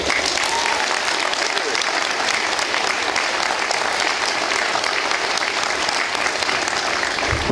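A large commencement crowd at Ole Miss applauds Senator Roger Wicker, a loud, sustained wash of clapping that stays dense and steady from start to finish.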